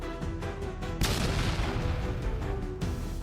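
Booming cannon blasts and crackling gunfire sound in a dense, chaotic burst, with a heavy impact about a second in and another near the end.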